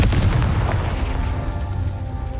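A Confringo fire spell explodes in Hogwarts Legacy, a single deep booming blast with a rumbling low-end tail that fades slowly over a couple of seconds.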